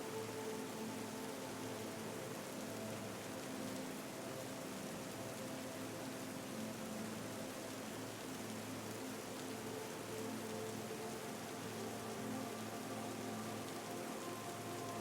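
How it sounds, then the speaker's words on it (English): Steady rain falls continuously and evenly, a dense, close hiss of drops on a surface with no distinct thunderclaps standing out and no voices. "Close your eyes and take in the sound of the rain and thunder,"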